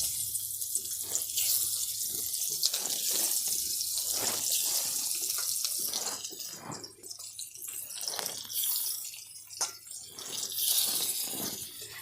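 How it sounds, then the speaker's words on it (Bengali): Rohu fish pieces fry in hot oil in a village Bengali kitchen, a steady bright hiss and sizzle with scattered pops and crackles throughout, fairly close and even. "এবার মাছগুলো ভেজে নেব।"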